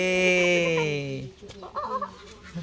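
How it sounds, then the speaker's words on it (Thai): Chickens on a family cattle farm cluck loudly and steadily up close, a drawn-out call dropping into choppier clucks and faint farmyard movement. "โอ้มีกุ๊กกุ๊กด้วยครับ กุ๊กกุ๊กไก่กุ๊กกุ๊กไก่เลี้ยงลูกมาจนใหญ่"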